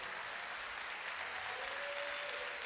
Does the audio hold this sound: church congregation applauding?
yes